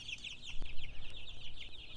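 One-week-old broiler chicks feeding, with a couple of ducks among them, make a busy, continuous chorus of high chirps and soft clucks. The sound is fairly quiet and steady, with no talking.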